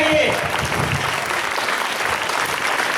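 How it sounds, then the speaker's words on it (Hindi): Audience at an Islamic quiz gathering bursts into loud, dense applause, a continuous roar of many hands clapping at close range for a few seconds. "जोरदार ताली बजाइए।"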